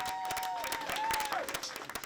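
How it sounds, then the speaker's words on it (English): Audience clapping at a ribbon cutting ceremony for an arts center, a brief patter of hands rising and thinning out over about two seconds, with a voice briefly sounding over it. "round of applause for that"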